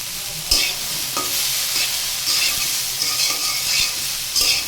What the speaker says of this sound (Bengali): সয়াবিনটাকে বেশ ভালো করে একদম ভাজতে হবে।